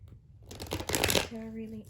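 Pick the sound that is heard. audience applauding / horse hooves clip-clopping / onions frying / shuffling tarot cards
shuffling tarot cards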